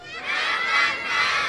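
A crowd of children shouts together in unison as the response in a call-and-response singing game, a loud sustained group yell lasting over a second.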